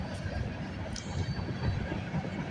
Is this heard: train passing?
yes